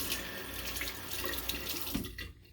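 A tap runs close by in a steady, moderately quiet stream of splashing water, then cuts off abruptly just before the end.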